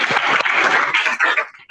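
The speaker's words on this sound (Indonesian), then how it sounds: "Oke, tepuk tangan dulu." Classroom students clapping together for a classmate's answer, a brief dense burst of applause that fades near the end.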